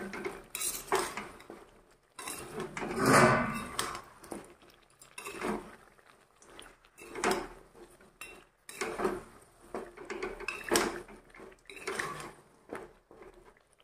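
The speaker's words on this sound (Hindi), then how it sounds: "अब हम इसे कलछू की मदद से टमाटर को अच्छे से मिलाएंगे" Ladle scraping and clinking against a metal pan while tomatoes are stirred for a desi chicken feet curry, repeated bursts of metallic clatter and scraping at close range with no talking.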